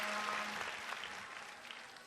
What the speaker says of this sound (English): now the crowd is singing Korea,